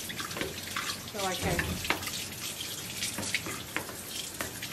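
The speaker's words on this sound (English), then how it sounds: "So I'll rinse the strainer like I said, and then I'll use it one more time." Tap water runs steadily while a fine mesh strainer is rinsed at a kitchen sink during melon seed soup preparation, a continuous close splashing wash with a person speaking briefly over it.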